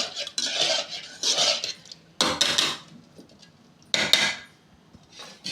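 Metal ladle scraping and knocking inside a hot pot while cleaning out roasted lentils, heard as several short, separate bursts of clattering with quiet gaps between them.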